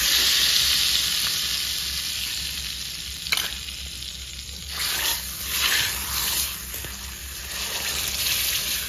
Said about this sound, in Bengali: বন্ধুরা ঘি গরম করে আর একটু রেড চিলি পাউডার দিলাম